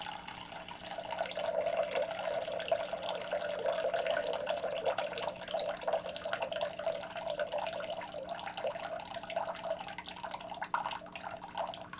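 A water mixture for lavender body lotion trickles steadily into a bowl, a soft continuous pouring and splashing that runs quietly for about twelve seconds.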